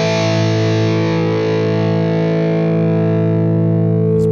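A Boss GT-1000 driving a tube amp produces one long, loud distorted electric guitar note that sustains steadily with a thick harmonic drone for over four seconds, alone, with a faint click at the end.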